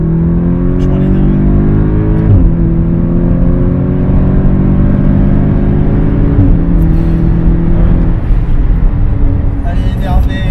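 A stage 2 Audi S3 8V with about 380 hp, fitted with an aftermarket exhaust line and a remap, revs loudly and close by, its engine note climbing and falling across several sustained pulls while people talk.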